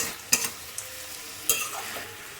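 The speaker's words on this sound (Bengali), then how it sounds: "এটাকে এখন মশলার সঙ্গে ভালো করে একটু কষিয়ে" Cooked food is sautéed with spices in a pan, giving a faint, soft sizzle broken by a few sharp scrapes of a spoon against the pan.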